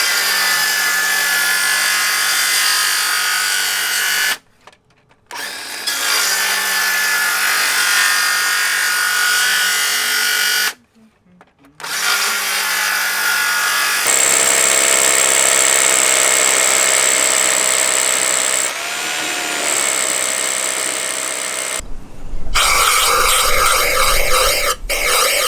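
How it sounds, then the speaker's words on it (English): Metal-cutting circular saw ripping through lumber for an outdoor staircase and landing, in several loud, sustained cuts of whining motor and buzzing blade, broken by short pauses between passes. "We're using Dave's metal circ saw,"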